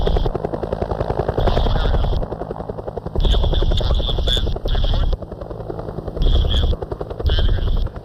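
UH-1 Huey helicopter lifting off: loud, close, continuous rotor thumping and turbine roar, with bursts of rapid gunfire-like chatter cutting in and out over it.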